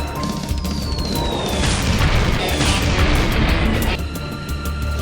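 A loud, sustained bomb explosion roar with deep rumbling and crackling debris, filling the whole stretch before easing slightly near the end.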